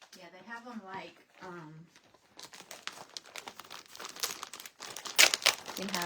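Plastic shrink wrap on a pillow crinkles and crackles up close in a burst of rustling handling noise, following a stretch of speech.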